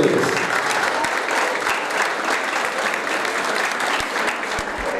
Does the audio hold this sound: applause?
yes